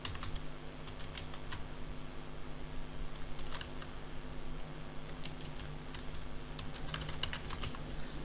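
Irregular clusters of keystrokes clatter on a computer keyboard, close and fairly quiet, over a constant low fan hum.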